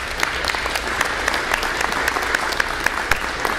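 Steady applause from an audience at a parish school town hall meeting, a continuous mid-level patter of many hands with a few sharper claps standing out.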